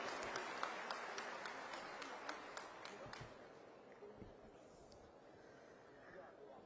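Audience applause welcomes a speaker at an orientation programme for newly recruited staff. Broad, fairly distant clapping rises at first, then slowly thins and fades, with some sharper individual claps standing out.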